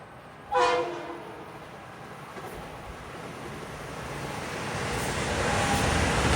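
A Metro-North New Haven Line train near Stamford, Connecticut sounds a short, clear horn blast, then a low rolling rumble builds steadily as it approaches.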